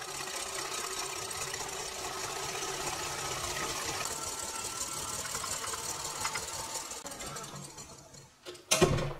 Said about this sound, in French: on va mettre le robot en route à vitesse moyenne en incorporant le sucre en 2 étapes